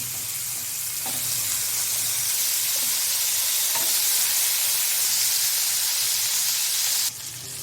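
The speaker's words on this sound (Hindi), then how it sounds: "इसको कम गैस पर रखना है और इसको अच्छे से फ्राई होने देना है" Chicken pieces fry in oil over low gas for butter chicken, a loud, continuous sizzle with a few stirring knocks, cut off abruptly near the end.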